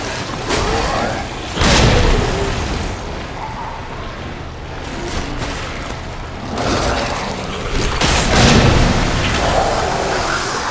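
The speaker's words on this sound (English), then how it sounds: "Oh, we have a grenade." Grenade explosion in Resident Evil 2 remastered, a loud booming blast followed by further heavy rumbling bursts over a dense, continuous game soundscape.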